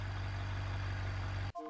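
The Alpha Male Carriers truck idles in the BeamNG driving game, a steady low diesel rumble with a constant hum that cuts off abruptly near the end.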